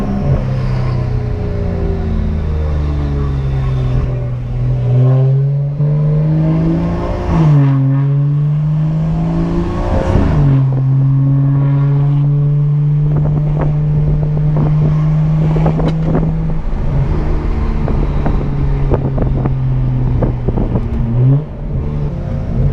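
A BMW M235i with a straight-piped, catless VRSF downpipe exhaust drives by close and loud, its raspy drone rising and falling through several revving gear pulls, with wind buffeting the microphone.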